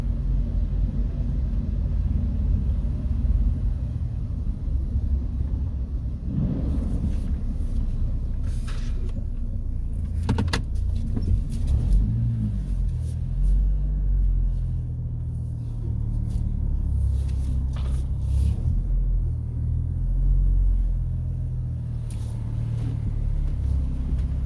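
A 2006 Chevy Trailblazer's engine runs at a steady idle, a continuous low rumble that holds even throughout, with a few faint knocks and brief bursts of noise over it.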